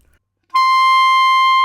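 A clarinet plays a very high D, a bright piercing tone that enters abruptly after a brief pause and holds steady and loud to the end, with no voices.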